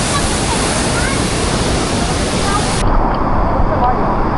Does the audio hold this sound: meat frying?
no